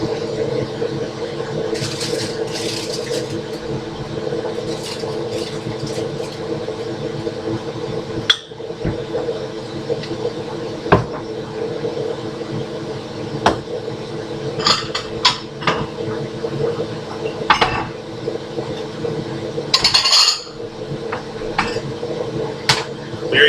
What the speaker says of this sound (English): I'm gonna do some stirring